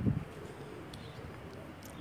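Pigeons on a rooftop loft give a low, soft coo at the start, then quieter cooing and rustling continue faintly in the background.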